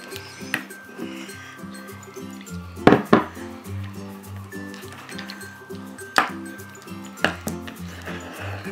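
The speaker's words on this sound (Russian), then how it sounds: "Еще размешиваю, чтобы она получилась однородной, без комочков." A spoon scrapes and clinks inside a cup while stirring homemade mustard from mustard powder, with a few sharp knocks against the rim over a low background hum.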